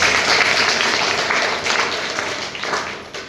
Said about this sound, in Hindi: एक बार फिर से इस सिस्टम के लिए जोरदार ताली बजाएं।